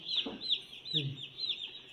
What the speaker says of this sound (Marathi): या बघा एकदम बारीक बारीक पिल्ले आहेत